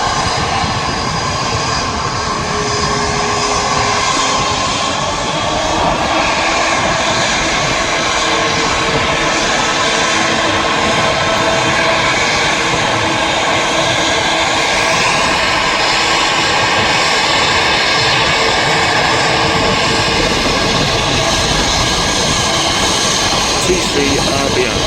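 An Airbus A321neo jet at a runway visitor park gives a loud, continuous roar of engine noise that holds steady throughout, with people talking faintly underneath.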